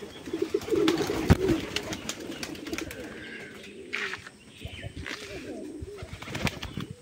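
Pigeons on a pigeon farm keep up a continuous, close chorus of low cooing and rustling, with occasional wing flutters and sharper knocks.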